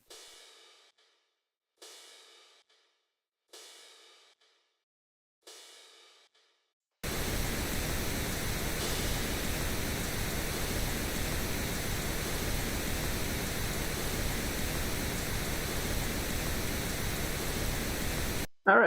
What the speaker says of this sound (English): This begins with sounds like some sort of crash sounds in just the pink noise alone.